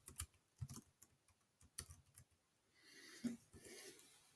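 Quiet, close clicking of keys on a computer keyboard while class periods are entered into a Google Sheets spreadsheet, in irregular bursts with brief pauses and a steadier patch of clatter near the end.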